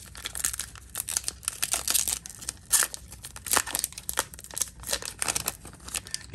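Bowman baseball card packs being ripped open fast, a steady run of sharp foil crinkles and tearing bursts, close and loud, with no voices.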